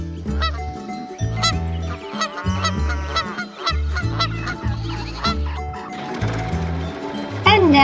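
Loud goose honks and gabbling cries sound repeatedly over a steady low musical backing, with a few bursts standing out near the end.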